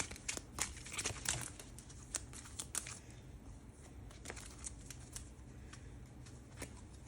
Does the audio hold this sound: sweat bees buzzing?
no